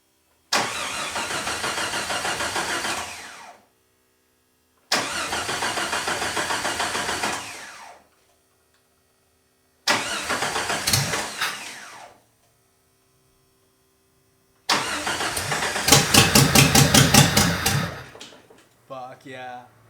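A Jeep YJ engine that has not run in two years cranks in four separate bursts with pauses between them. The last attempt catches and runs roughly before dying away, all loud and close.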